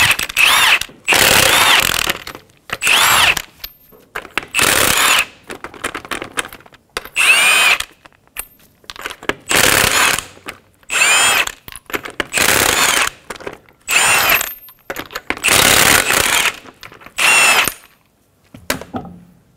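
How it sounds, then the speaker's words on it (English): A power tool fitted with a 22 mm socket removes the lug nuts from a 2007-2017 Ford Expedition front wheel, making loud, close whirring bursts repeated about a dozen times with short pauses between them. "Using a 22 millimeter socket, remove your lug nuts."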